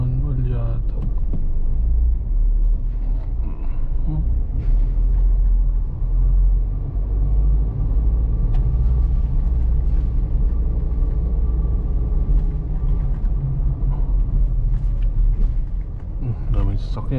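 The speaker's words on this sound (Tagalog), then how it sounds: "Daming sasakyan." Steady traffic noise from many cars crowding a mall parking entrance at Uptown Mall in BGC, a continuous low rumble of idling and creeping engines, with people talking over it.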